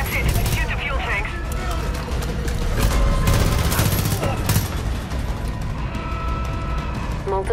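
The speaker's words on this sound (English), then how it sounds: "Shoot the fuel tanks." Rapid automatic gunfire and booms in the Far Cry 5 video game as fuel tanks are shot, dense and continuous under a synthetic voice announcing system failures.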